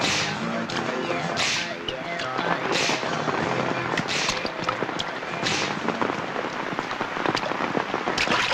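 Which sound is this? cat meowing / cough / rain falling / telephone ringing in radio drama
rain falling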